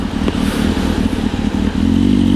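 Motorcycle pulling away for a ride on a rainy day, its engine a loud, close, throbbing rumble that rises slightly in pitch and strength near the end as it accelerates.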